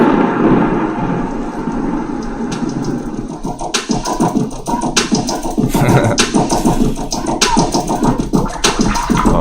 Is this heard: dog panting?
no